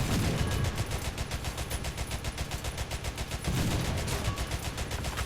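Tank guns in War Thunder fire in fast, evenly spaced bursts, loud and close. The rapid pounding runs almost nonstop, with a short break midway, and no talking over it.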